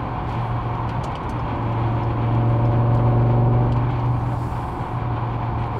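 A BMW M5 E60 car at highway speed on a Canadian highway, a steady loud engine drone with constant road and wind noise throughout, swelling slightly in the middle.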